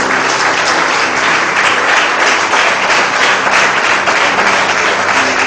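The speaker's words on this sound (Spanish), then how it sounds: "Denle un fuerte aplauso al Señor." Loud, sustained applause from a church congregation giving praise to the Lord, a dense steady wash of many hands clapping throughout with no pauses.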